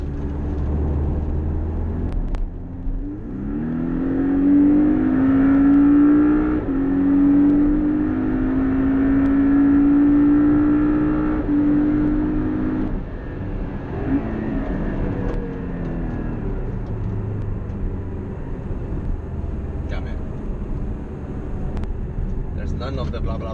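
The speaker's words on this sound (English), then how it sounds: "It's just an angry engine with the sound that sounds a little bit like synthesizers." A 2017 Porsche Cayman with a 2-liter turbo engine revs under acceleration from inside the car, a rising, tonal, synth-like drone climbing through gears, then easing off into steady road noise, with someone talking over it.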